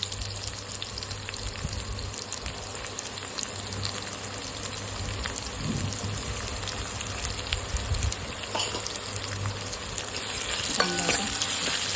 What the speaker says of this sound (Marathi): त्याच्यामध्ये आपल्याला कापलेला कांदा टाकून घ्यायचा